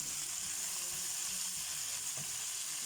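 Chicken frying in a karahi gives off a steady, soft, continuous sizzle with a broad hiss, low and even throughout, with no voices.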